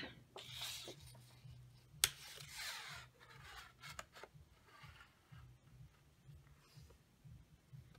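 Scissors snip through paper while a sheet is held in place for a scrapbook page, with a sharp click near two seconds amid soft rustling and shuffling of paper, quiet and close.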